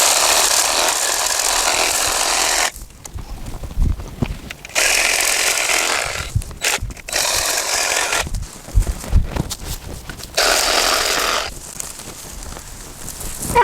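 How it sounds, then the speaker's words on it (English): A reciprocating saw cuts through a clump of switchgrass in loud bursts, stopping and starting several times with brief pauses of rustling between cuts. "And now, I'll take my reciprocating saw"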